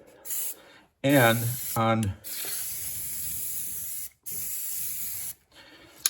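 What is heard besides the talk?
spraying glue from a spray can onto wood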